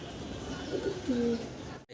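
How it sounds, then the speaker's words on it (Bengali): An Indian high flyer pigeon gives a couple of short, soft coos close by against quiet background noise. "ইন্ডিয়ান একটা হাই ফেলার কবুতর"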